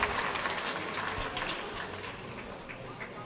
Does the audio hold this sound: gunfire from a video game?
no